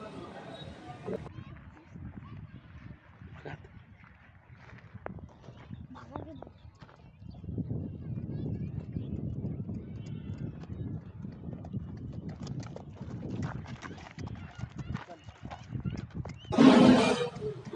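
Hooves of a black horse in Aurangabad, India, clip-clop in a loose, irregular rhythm close by, mixed with someone talking and other background noise.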